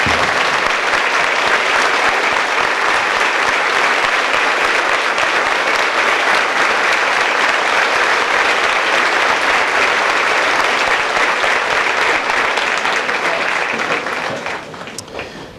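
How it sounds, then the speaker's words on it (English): An audience at an army basic training graduation gives veterans a long, loud, sustained round of applause, dense and steady for over fourteen seconds before tapering off at the end. "Please give me a round of applause for our veterans."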